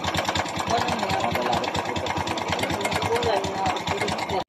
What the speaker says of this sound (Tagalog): para sa akin yung tunog na yan ay timing chain